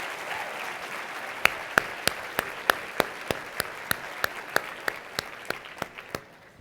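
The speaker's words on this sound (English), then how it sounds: "please give another round of applause to these 4th and 5th grade students" Sparse, fading applause from an audience for a group of 4th and 5th grade students from a school choir at a Legal Aid annual meeting: steady light clapping with a few louder individual claps ringing out at an even pace.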